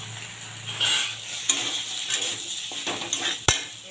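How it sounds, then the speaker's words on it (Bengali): Spoon stirring fried spices with ground poppy seed and chili paste in a pan for a vegetable curry of pumpkin stems, potato and eggplant, giving irregular scraping and light sizzling with a few sharper metallic knocks, close and alone. "এইগুলা দিয়ে বেশ একটু নাড়াচাড়া করে নেব।"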